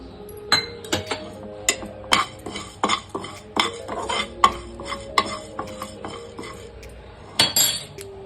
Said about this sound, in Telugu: మెంతులు ఫ్రై అయ్యాయి ఇప్పుడు జీలకర్ర వేసుకోవాలి